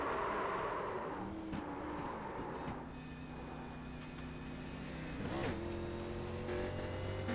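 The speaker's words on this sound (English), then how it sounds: "You can actually hear the high revs." Race car engine revving high in a racing video game at Indianapolis Motor Speedway, a steady high-pitched whine with rising and falling pitch sweeps, a brief surge near the end, loud and continuous.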